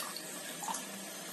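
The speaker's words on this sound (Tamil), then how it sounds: "நல்லா ஃபில்டர் பண்ணி ஊத்திக்கோங்க. புளி தண்ணி," Filtered tamarind water poured into a pot for banana stem rasam, a brief soft trickling splash, faint and close, with no voices.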